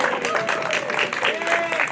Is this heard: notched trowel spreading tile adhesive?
no